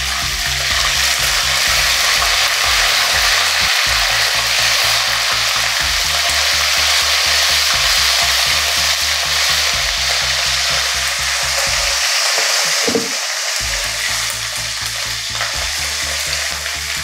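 Ginger garlic paste with cumin seeds fries in hot oil over low gas heat, a loud, constant close sizzle with brief stirring scrapes and a short clatter near the end, no voices.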